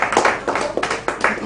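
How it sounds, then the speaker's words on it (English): Audience applause for a presenter at a live-streamed African community event: a short run of close, rhythmic claps in quick bursts. "a round of applause for her, please."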